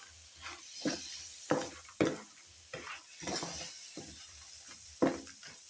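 Crab curry being stirred with a little salt in a pan, giving a series of irregular scraping and clattering stirs with soft sizzling between them, close by and moderately loud, with no talking.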